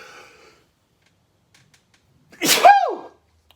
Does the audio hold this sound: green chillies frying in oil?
no